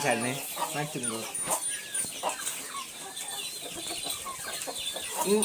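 Chickens on a farm cluck and bawk close by, busy and overlapping throughout, with a rooster-like call early on and people talking now and then in the background.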